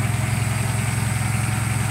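A tractor's steady, low engine idles with a rhythmic mechanical chug, close and continuous, with a faint higher whine above it.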